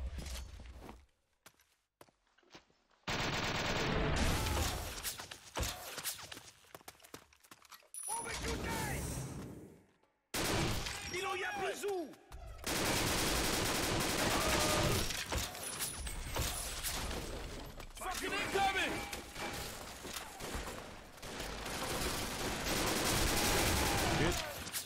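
SMG fire in the shooter game 50 Cent: Blood on the Sand comes in rapid bursts amid mechanical clatter and footsteps, with abrupt cuts to silence and some talk mixed in.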